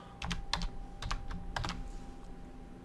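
Keystrokes on a computer keyboard while a password is entered during a WordPress install, arriving in quick bursts of several clicks separated by short pauses, close and clear with no talking.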